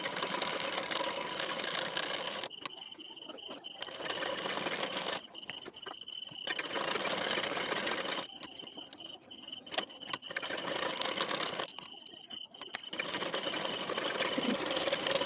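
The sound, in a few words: sewing machine stitching blouse fabric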